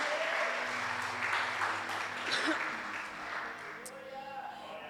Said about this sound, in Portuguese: Aplauda o Senhor e pode se sentar.